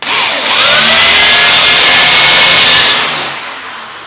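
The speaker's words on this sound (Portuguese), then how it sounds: "A broca já vai entrar." A drill bit boring a dowel hole into wood guided by a jig, producing a loud, close, high whirring grind that starts abruptly, holds steady for a few seconds and then tapers off as the bit winds down.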